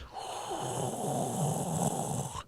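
A single drawn-out, rumbling snore, close and fairly quiet, apparently a voice mimicking someone snoring.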